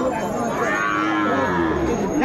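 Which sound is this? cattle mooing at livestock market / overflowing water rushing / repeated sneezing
cattle mooing at livestock market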